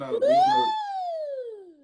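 A single voice slides upward and then glides slowly down in a long, smooth wail, imitating a siren.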